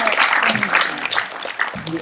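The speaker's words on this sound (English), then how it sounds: "I think we should give him a round of applause." An audience at a commemorative event for the second anniversary of the Great East Japan Earthquake applauds with dense, continuous clapping that stays fairly loud and fills the whole moment.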